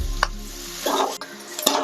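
Onion, green chili and ginger sautéing in a pan for chicken podimas: a spoon scrapes and stirs in short bursts over a light sizzle, close and clear, no talking.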